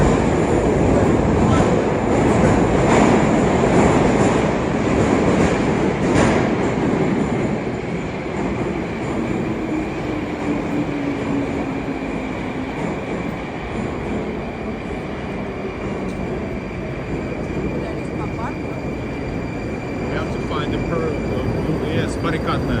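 A Moscow metro train runs between stations, a loud steady rumble of wheels and carriage roar with faint squeals and a rising whine, heard from inside the car for over twenty seconds.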